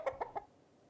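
Chickens in an insurance advert give three quick, close clucks in rapid succession, then fall quiet.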